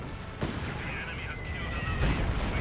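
Airstrike bombs hit in a Company of Heroes 2 battle on a wintry Pripyat map, with two sharp blasts about a second and a half apart over rumbling battlefield noise, fairly distant and moderate in level.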